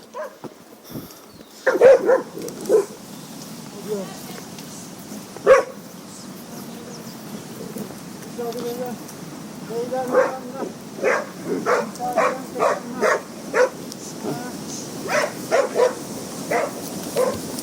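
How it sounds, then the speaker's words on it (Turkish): Dogs bark repeatedly, a few scattered barks at first and then a fast run of sharp barks at moderate distance. "Köpekler rahat bırakmadı."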